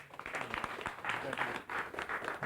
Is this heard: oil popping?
no